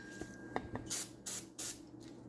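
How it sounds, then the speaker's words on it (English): Brake cleaner sprays from an aerosol can in three short hissing bursts, close by, after a few light taps and clicks from work on a 1948 Packard straight-eight. "spray it out with brake cleaner"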